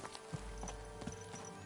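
Horse hooves clip-clopping during a ride in Kingdom Come Deliverance 2, a few soft thuds at a steady trot over a constant low ambient rumble, brief and fairly faint.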